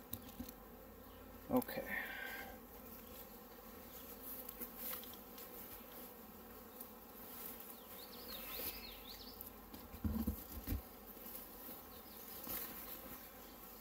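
Honey bees buzz around hive frames at a resource hive during a walkaway split, a steady soft drone close by, with a brief word spoken over it.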